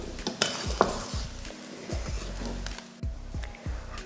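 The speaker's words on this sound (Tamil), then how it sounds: "தூவிட்டு இதையும் உப்பு போட்டதுக்கப்புறமா நல்லா கிளறி விட்டுருவோம்" Okra egg rice being stirred in a pan after salting, with a soft sizzle under repeated scraping and clinking strokes of a spoon against metal, close and fairly quiet.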